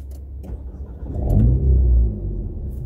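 An Alpine A110 Pure sports car is started from its cabin push button. After faint clicks, the engine catches with a deep rising rumble, settles into a low idle, and no one speaks.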